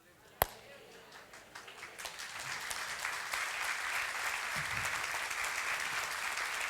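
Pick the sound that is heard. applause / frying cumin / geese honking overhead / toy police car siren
applause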